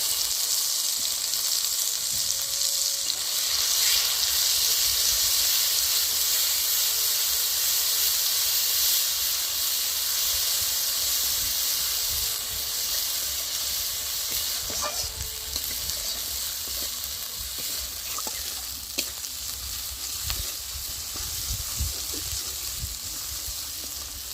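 A paste of ginger, green chili, poppy seeds and mustard fries in oil with turmeric for potol posto, giving a loud, continuous close sizzle and hiss with occasional stirring scrapes and no talk.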